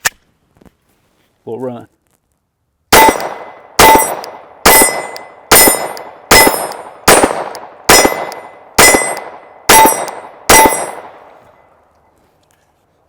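Glock 44 pistol firing CCI Stinger .22 rounds, ten sharp, loud shots in a steady rhythm about one per second, each ringing out with a metallic clang, after a few brief words and small handling noises.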